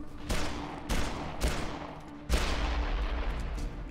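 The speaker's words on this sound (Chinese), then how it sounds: "我看见你开枪了啦！" Gunfire erupts in the video game Dead Island Riptide: three quick separate loud shots, then a longer sustained burst of rapid firing that rolls on to the end.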